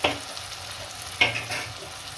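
Ginger, cumin and garlic paste fry in hot oil with a soft continuous sizzle, broken by two sharper scrapes of a spoon stirring through the pan, one at the start and one midway.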